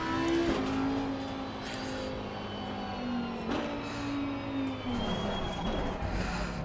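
BMW M4 GT4 race car engine in Assetto Corsa Competizione, a steady droning rev with pitch sweeps as it shifts and slows, accompanied by faint tire noise, moderately loud and continuous.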